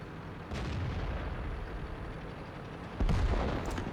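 Gunfire strikes an AT-15 tank in a video game, coming as two dull, booming blasts about two and a half seconds apart over a rumbling battle background, with no voices.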